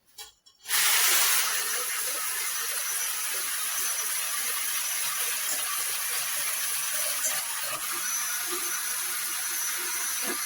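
Eggs for an omelette Poulard are beaten in a steady, continuous airy hiss that starts suddenly after a brief quiet moment and carries on evenly and close by without pause.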